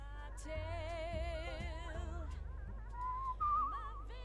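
Wavering whistled tune from a character in the game Where the Water Tastes Like Wine, steady and clear over a low droning background, sliding up in pitch near the end.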